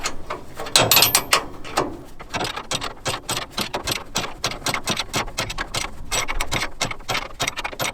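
A 7/8 wrench tightens the nut on the ball-joint bolt of a 1967 Chevy Camaro's front suspension during a spring replacement, producing rapid, irregular metallic clicks and ratcheting taps, close and steady without talk.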